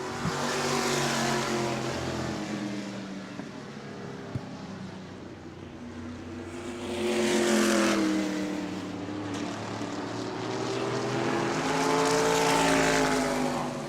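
Race cars in a Sunbelt Series race at New Smyrna roar past, engine notes loudly rising and falling as several cars surge by in waves, with no voices over them.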